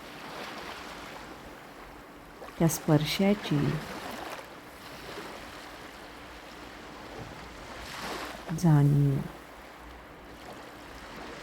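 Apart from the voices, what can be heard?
ocean waves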